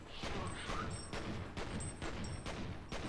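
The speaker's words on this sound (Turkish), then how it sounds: "İki tane mermi kaldı zaten onu da sıkayım bari" Gunfire from the first-person shooter F.E.A.R.: several sharp, loud shots in an irregular rhythm over a constant noisy game background, with no talking.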